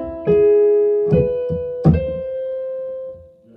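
Piano notes picking out part of a tune, a few separate struck tones ringing on with a sustained decay, played up close with no talking.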